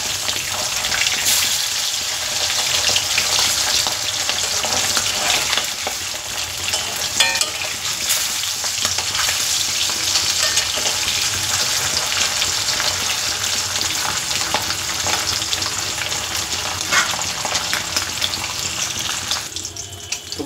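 Hilsa fish fry in hot oil in a pan in an early-morning home kitchen. A loud, steady crackling sizzle runs the whole time, gushing and bubbling at moments, close up and with no one talking.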